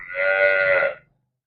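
A Gir cow gives a single drawn-out moo lasting about a second, clear and fairly close, then stops abruptly into silence.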